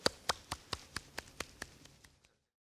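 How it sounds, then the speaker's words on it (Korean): Clapping to welcome the pastor at an online Sunday church service: about ten evenly spaced, fairly faint claps in a steady rhythm, gradually fading out. "박수로 우리 환영하도록 하겠습니다"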